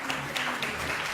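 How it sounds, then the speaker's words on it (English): Audience applauding at a Boston city council committee meeting on planning, development and transportation, a brief steady round of clapping from a crowd in a meeting room. "Round of applause for our Parks and Climate Resiliency panel."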